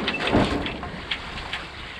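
A sailboat running wing on wing with the genoa poled out in about five knots of wind: close, continuous rushing and booming with soft thumps and slaps throughout, no voices.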